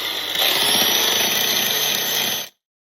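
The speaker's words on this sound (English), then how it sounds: "I'm gonna grind off just a little bit of paint and make my welding just a little easier" An angle grinder strips paint off steel angles before welding, a loud, close, steady whining grind that holds for about two seconds and then cuts off abruptly to silence.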